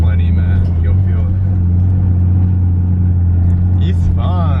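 A small turbocharged car pulling hard at 14 PSI of boost, its engine a constant, close droning hum beneath people talking inside the cabin.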